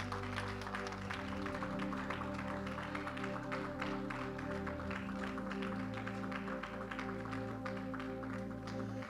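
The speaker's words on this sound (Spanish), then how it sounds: "Vamos a darle un fuerte aplauso a Jesús." Congregation clapping at a Spanish-language church service, quiet and continuous, mixed under steady sustained music with a few voices.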